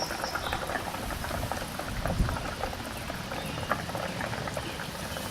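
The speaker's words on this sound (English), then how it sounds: "I got just a little under a gallon in this here can, so I'll just dump the contents in there." Gasoline glugs and splashes from a can into the fuel tank of a Power Horse 3000 PSI pressure washer, a steady, close, bubbling pour lasting several seconds with no talk.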